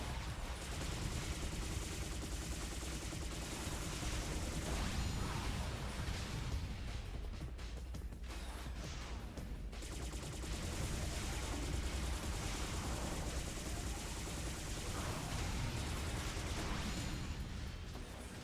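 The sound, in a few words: gunfire from shooting in video game P.N.03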